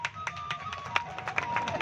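An audience claps at an award ceremony where doctors are being honoured; the applause sounds fairly faint and scattered, with irregular claps and a steady tone running beneath.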